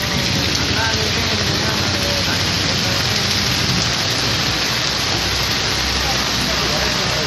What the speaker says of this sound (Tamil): சூறைக்காற்று மற்றும் இடி மின்னலுடன் கனமழை கொட்டி தீர்த்தது